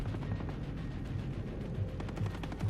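Sustained automatic gunfire from a Ghost Recon Breakpoint firefight with AI teammates, dense rapid rattling bursts layered with low booms, fairly loud and continuous without speech.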